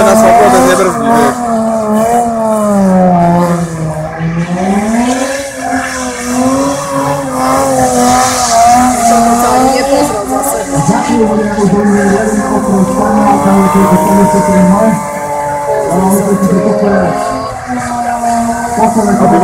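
Car tires spinning on asphalt at a tuning event, a loud, continuous screeching squeal under a roaring, revving engine whose pitch swoops up and down, close and intense throughout.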